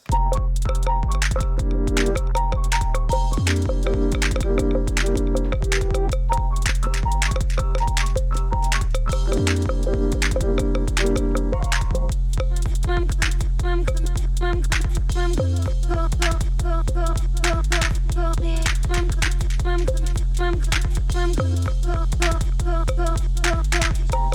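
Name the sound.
footwork track played on drum machine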